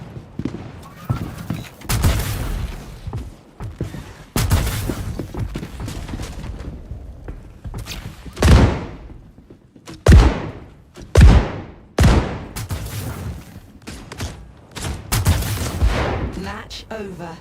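Electric weapon firing in Star Citizen, repeated sharp crackling zaps and thumps in bursts, some loud and close with decaying tails, amid busy game noise and occasional voices.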